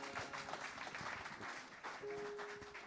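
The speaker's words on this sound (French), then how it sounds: "je vous laisse en compagnie de l'équipe de louange qu'on peut applaudir vraiment très fort" Quiet audience applause at a Christmas church service, for the worship team, a steady patter of many hands clapping at a distance, continuing throughout with a faint tone in the background.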